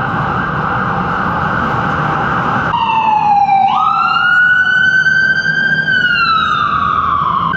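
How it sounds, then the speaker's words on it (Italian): A wailing emergency vehicle siren on a New York street, loud and close, with its pitch sweeping up and down over steady road traffic rumble. "Sirene sempre."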